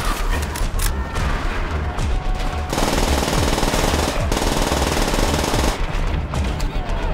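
Loud, close gunfire from the video game Call of Duty: World at War, bursts of rapid automatic shots with sustained sprays and brief pauses, dense and continuous across the stretch.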